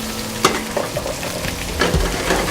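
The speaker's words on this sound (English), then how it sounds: "you saute off your onions, you add your garlic, your fresh ginger" Onions, garlic and fresh ginger sauteing in a pan for a Trinidadian curry base at a catered wedding, a loud, close sizzle with occasional stirring scrapes and bumps, no talking.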